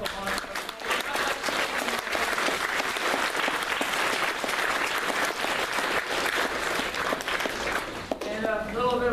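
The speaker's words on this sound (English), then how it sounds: "Round of applause." A panel audience breaks into sustained applause, dense and loud throughout, with a voice starting to speak as the clapping tapers at the very end.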